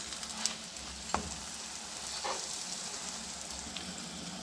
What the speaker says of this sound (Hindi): हमने एक साइड टर्न कर ली और हमने इसके ऊपर घी लगा दी, क्योंकि घी से पराठे बहुत क्रिस्पी बनते हैं।